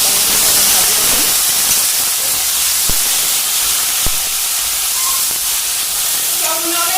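Tomato dropped into onions frying in a pan for an egg curry, giving a steady loud hiss of sizzling oil with a couple of brief clicks and no talk over it.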